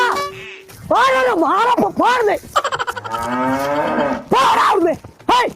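A cow moos loudly several times nearby, long drawn-out bellows, with people talking close by between the calls.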